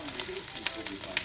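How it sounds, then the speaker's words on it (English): Egg-coated rice sizzles and fries in a pan, flattened and flipped repeatedly, with soft scraping stir sounds and a couple of sharper clinks over a steady, close hiss. "this rice, you gotta flatten it out and then keep flipping it"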